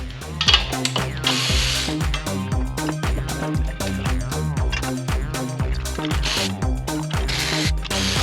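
A hand ratchet turns out a damaged hex nut during an intake manifold runner control delete ahead of a Coyote 5.0 swap, producing steady, rapid repeated clicking in a close, loud, even rhythm throughout.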